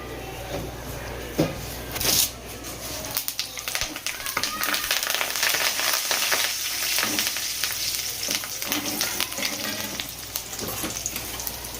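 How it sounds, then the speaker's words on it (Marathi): Whole spices crackling and sizzling in hot oil for an egg curry, a steady crisp frying hiss with scattered pops and a few clinks of a utensil. "हे मसाले तडतडले की"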